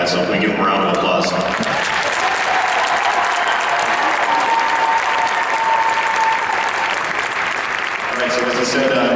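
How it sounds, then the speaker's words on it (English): A large crowd at a FIRST Robotics regional opening ceremony applauding volunteers and judges: dense, loud, sustained clapping that fills the whole stretch, with faint voices at the start and end. "so we give them a round of applause"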